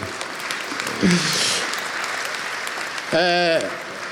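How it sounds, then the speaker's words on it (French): Applause at an inauguration of a transport company site near Langres breaks out under a speaker's amplified voice, with a few people talking over the steady clapping. "vous pouvez l'applaudir"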